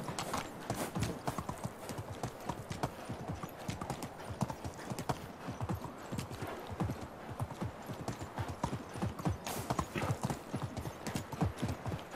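Horse hooves clip-clopping steadily and close in the medieval survival game Medieval Dynasty, a brisk rhythmic run of hoof beats over the whole stretch with faint ambient background.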